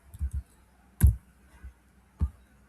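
A few crisp keyboard key clicks, sparse and close, with short pauses between them in an otherwise quiet room.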